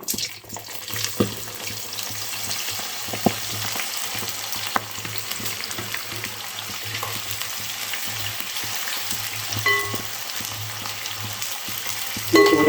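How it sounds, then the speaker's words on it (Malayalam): Jackfruit pieces frying in hot oil with turmeric powder, a steady close sizzle with occasional stirring clinks and scrapes running throughout. "ഇപ്പം എണ്ണ തിളച്ച് വന്നിട്ടുണ്ട് നമുക്കതിലേക്ക് അര ടീസ്പൂൺ മഞ്ഞൾപ്പൊടി ഇട്ട് കൊടുക്കാം അതിലേക്ക് ചക്കച്ചുളയും കൂടെ ഇട്ട് കൊടുക്കാം"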